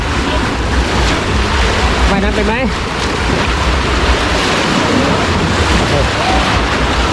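Waves surge and crash in a water park wave pool, a steady loud wash of churning water filling the scene while a voice speaks briefly over it.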